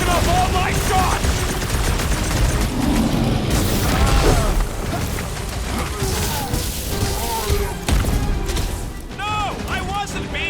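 Dense gunfire and booming impacts in a Marvel's Guardians of the Galaxy battle as Star-Lord, loud and continuous with mechanical clatter, crashes and game voices talking over the fight.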